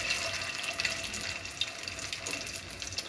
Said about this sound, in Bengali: এবার একে একে চপগুলা ভেজে নেব আমি